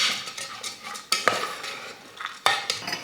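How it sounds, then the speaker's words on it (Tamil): Rice and lentils roasting in ghee for a pea and carrot pongal, stirred with a metal spoon that scrapes and clinks against the pan in a few sharp strokes over a soft, quiet crackle. "அரிசி பருப்பு சேர்த்ததுக்கப்புறம் 1 நிமிஷத்துக்கு இந்த நெய்யிலேயே நல்லா வறுத்துக்கலாம்."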